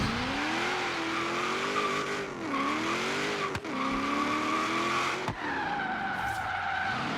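Supercharged V8-swapped Nissan S13 with a Rocket Bunny kit, about 550 horsepower, drifting in a racing game: a steady, wavering engine howl with long tire squeal and a couple of sharp clicks or shifts.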